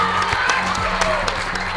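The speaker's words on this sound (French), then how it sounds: "On peut l'applaudir." At a school quiz match, an audience applauds a contestant with a short burst of clapping and light cheering, mixed with a voice speaking over it.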